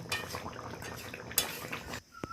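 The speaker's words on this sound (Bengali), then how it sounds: "এবার আমি একটা পাত্রে ঢেলে নেব" Catla fish curry with pointed gourd and potato is tipped from the pot into a serving bowl, giving a short run of close metallic scrapes and clinks, a sharp knock midway, then quieter clatter.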